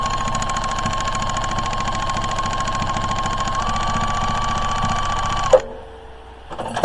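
A sewing machine stitching fabric for a log cabin pot holder runs steadily at a rapid, even clatter for several seconds, then stops abruptly with a clunk, followed by a brief restart and a short mechanical thump.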